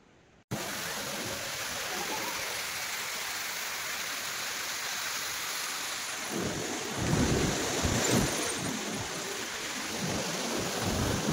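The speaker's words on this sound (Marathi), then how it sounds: "ज्या ठिकाणाहून हा धबधबा दरीत कोसळतो" Roar of the Sautada waterfall in Beed, Maharashtra, plunging into a valley: a steady, loud broadband rush of falling water that holds throughout and grows heavier and deeper partway through, with no voices.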